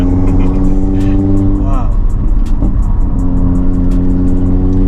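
Exhaust of a 700bhp big-turbo stage 3 Audi RS3, a loud steady drone with rising and falling revs heard from inside the car, with a voice briefly speaking over it.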